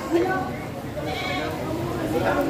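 Goats bleat at a goat market on a rainy day, a couple of short nearby calls over background chatter and rain-like hiss.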